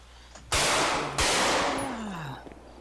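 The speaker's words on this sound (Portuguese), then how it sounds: "Eu tô dando uns tiros pra chamar a atenção." Gunfire in GTA V roleplay, two loud sharp bursts about half a second apart, each ringing out and decaying slowly, with faint game ambience and a falling tone trailing afterward.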